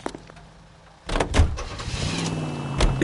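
A car in L.A. Noire on PS4 starts up after a quiet stretch with a door-like thump, then its engine roars and revs loudly and close, with a second surge near the end and no talking.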